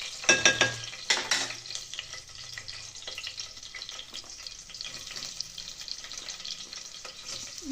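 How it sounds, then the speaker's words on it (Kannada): Onions and green chillies frying in a pan for tomato bath, a few loud stirring scrapes at the start, then a soft, continuous sizzle. "ಈರುಳ್ಳಿ ಸ್ವಲ್ಪ ಫ್ರೈ ಆಗಬೇಕು"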